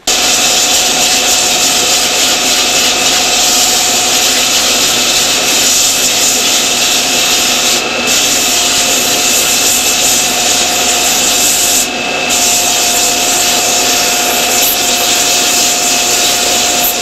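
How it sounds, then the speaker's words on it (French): A belt sander shapes a wooden clog in a workshop, giving off a loud, continuous, close whirring roar with a steady abrasive hiss that barely changes, with no talk. "on va arriver à la même finition, avec la ponceuse à bande"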